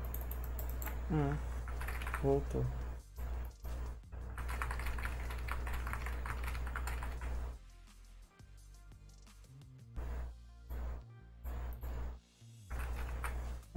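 Computer keyboard typing in bursts of quick clicks, close and fairly loud, with a steady low hum beneath and a few short spoken words between stretches of keystrokes.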